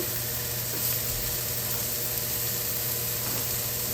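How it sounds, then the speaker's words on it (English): Continuous crackling sizzle of burgers frying in a pan, a steady close hiss with faint pops throughout, no voices. "Love that sizzle."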